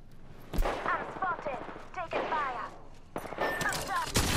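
Bursts of Apex Legends gunfire crackle in short volleys, with a loud opening crack and denser clusters of shots later, while voice callouts and game chatter play underneath.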